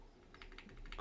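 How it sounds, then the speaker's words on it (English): A quick run of soft keystrokes on a computer keyboard, evenly spaced taps over a low steady hum, no voice. "I'm typing"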